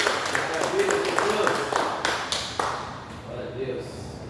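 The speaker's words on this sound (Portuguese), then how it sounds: "Vamos aplaudir ao Senhor." Worshippers in a church service clap in praise, scattered, uneven hand claps and taps at moderate distance, fading out toward the end as a voice begins speaking quietly underneath.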